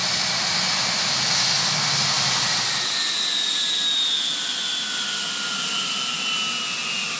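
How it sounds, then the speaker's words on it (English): The jet engines of a Saudia Lockheed L-1011 TriStar keep running after landing, a loud steady whine and roar with slowly falling turbine tones and no voices. "the engines are still running"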